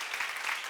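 A church congregation breaks into a quick burst of applause during a seminar on First Corinthians, dense, even clapping lasting under a second, alone and fairly loud.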